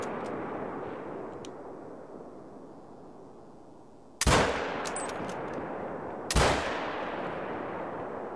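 Two sharp, loud rifle shots from a 6.5 hunting rifle in theHunter: Call of the Wild, spaced about two seconds apart. Each crack rings out and trails off slowly against a steady outdoor background, with no talking.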